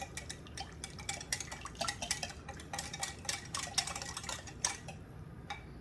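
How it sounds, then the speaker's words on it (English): A whisk beats a glaze sauce in a bowl, giving a rapid, regular series of light metallic clicks and scrapes, close and quiet, continuing steadily before stopping near the end, with no talking. "I'm gonna come in with my whisk and we're just gonna whisk this together."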